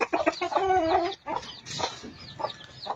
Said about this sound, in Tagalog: Ayan, heritage chicken yan, tapos native.